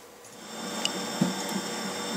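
A printer printing a page sent wirelessly over AirPrint from a Mac, a soft mechanical whir with a few small clicks and knocks, close by and fairly quiet.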